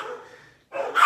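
Dogs at home barking at someone at the door, a couple of short sharp barks, a brief pause, then another burst, close to the listener.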